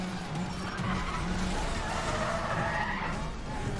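Tires squeal and skid steadily as a car drifts in the racing game Need for Speed: The Run, a continuous screech over engine noise, with a voice talking faintly.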